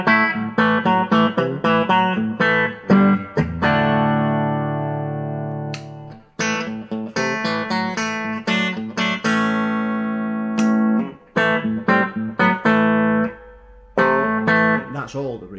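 Electric guitar played through a Marshall JTM 30 amplifier with a little spring reverb added, strummed chords and single notes ringing out loud and close, with sustained chords decaying between bursts of picking.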